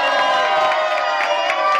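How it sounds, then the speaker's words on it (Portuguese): A crowd at a Brazilian rap battle erupts in loud cheering, shouting and whoops between rounds, a continuous dense roar with sharp yells rising and falling throughout. "eu quero que faça muito barulho e batam palmas, gritem, levantem, pulem"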